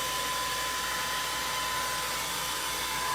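Hair dryer running steadily in an art studio to dry paint on a cotton milk can craft project, a constant loud whooshing blower hum with a high whine throughout and no pauses.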